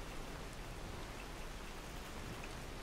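Steady rainfall in the fantasy game Enderal, a total-conversion mod for Skyrim, a dense, even hiss of drops on surfaces that continues without break and with no voices.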